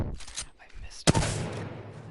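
A single sharp crack of gunfire rings out in the Apex Legends firing range, followed by a lingering noisy tail, fairly faint overall with muffled sounds beforehand.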